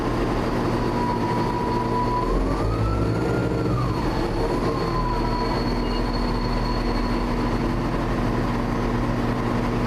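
Train coaches roll past at Birmingham New Street station with a continuous loud rumble and hum under the station roof, and a faint tone rises and dips midway, with no talking.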